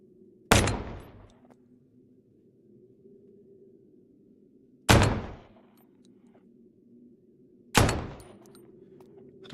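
Three loud, close gunshots ring out in a post-apocalyptic survival video game, each a sharp blast with a decaying tail, spaced a few seconds apart over a low steady background hum.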